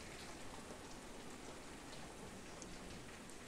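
Steady in-game rain pours evenly as a dense, constant hiss of drops, faint and unbroken throughout with no voices over it.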